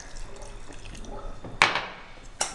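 Water is added to pancake batter: a soft trickle and light splashing under faint kitchen background noise, followed by two sharp louder pouring or splashing bursts near the end.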